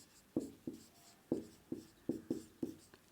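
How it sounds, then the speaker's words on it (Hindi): Chalk or marker strokes on a board during a physics lesson come as a series of sharp, rhythmic taps and short scrapes, about eight distinct strokes, close and clear, with no talking. "अगले लाइन से लिखेंगे"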